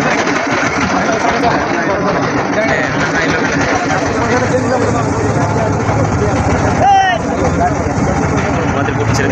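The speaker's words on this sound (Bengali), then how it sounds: "আমাদের বোট ছেড়ে দিচ্ছে।" A boat engine running loudly and steadily as the boat departs in the Sundarbans, a constant rumbling drone filling the whole stretch, with a faint brief chirp partway through.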